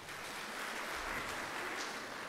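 Audience applause in a church or Sunday-school gathering, a steady broadband patter of many hands clapping for a child after a Bible verse, sustained at an even moderate level throughout.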